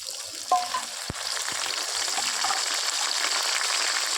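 Ginger paste frying with browned onions and whole cinnamon in a pan for capsicum chicken: a spoon tap, then a steady crackling sizzle that holds at moderate level throughout, with no speech.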